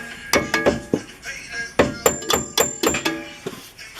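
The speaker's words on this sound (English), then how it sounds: "I'm just going to find my hammer, pull the strut through" Repeated sharp metallic hammer strikes knocking a rear shock strut loose on a 2006 Subaru Outback XT, close and loud, coming in irregular bursts of two or three blows with brief pauses between.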